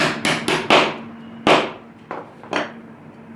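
A hammer taps an x-axis carriage part into place on a DIY four-axis hot wire CNC build, with about eight sharp, close strikes in an uneven rhythm, some quick and some spaced apart.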